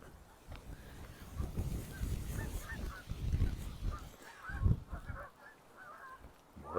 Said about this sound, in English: More geese.